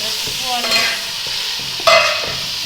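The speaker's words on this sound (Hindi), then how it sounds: "चिकन जो मैंने गर्दनें डाली थी अच्छे से फ्राई हो चुकी है" Chicken neck pieces and spices fry in a pan for murgh pulao, a close, steady sizzle with scraping stir strokes and a couple of sharper clinks.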